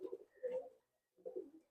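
A male Andhra pigeon coos close by in two short soft phrases, a low throaty burble separated by a brief pause.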